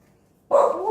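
A household dog lets out a single sudden bark that trails into a whining yelp, close and loud after a quiet moment.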